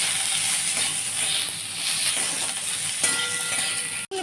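Onion, carrot and capsicum stir-fry in a hot pan with a loud, steady hiss and sizzle close up, with no talking.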